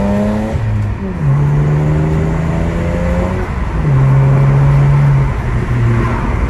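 A BMW 335i with a stock diverter valve pulls hard in first gear, its engine note rising loud and steady in pitch, drops briefly at a shift-like dip, then climbs again, droning continuously close by.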